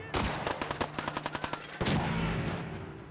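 Rapid automatic gunfire from Fallout 4, a fast burst of about fifteen shots followed by one heavier blast and a fading echo, loud and alone with no talk over it.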